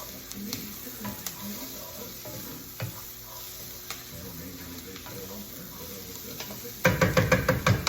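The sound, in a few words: onions, garlic and leeks sauteing in ghee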